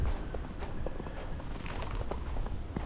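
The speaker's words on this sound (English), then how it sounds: "Oh, you hear the birds?" Birds chirp in short, scattered calls outdoors on a street during a rare Houston snowstorm, heard over steady low background rumble.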